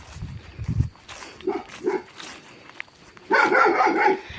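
Liutyi, a farm dog in the Carpathian mountains, barks in short separate yaps followed by a louder, denser run of barking near the end, close by and with no voices.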